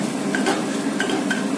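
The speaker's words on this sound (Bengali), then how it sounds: "দিয়ে তেল গরম হয়ে গেলে ডিমগুলোকে ছেড়ে দিলাম" Eggs frying in two tablespoons of hot mustard oil in a wok, a steady close sizzle with a few light clinks of utensil against the pan.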